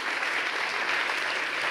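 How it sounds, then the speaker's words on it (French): Audience applause at a talk on men's mental health, a steady, dense wash of many hands clapping at moderate loudness, sustained evenly throughout with no talking over it. "on peut applaudir Maud Lorès"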